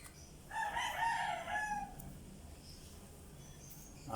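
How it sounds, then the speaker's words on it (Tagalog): A rooster crows once, a loud drawn-out call lasting about a second and a half, followed by quieter background noise. "Manok na ito."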